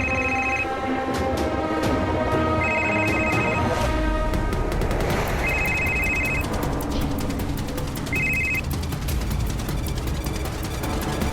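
A mobile phone ringtone repeats in short beeping bursts through a tense police crime-drama scene, sounding over dense dramatic music and effects throughout.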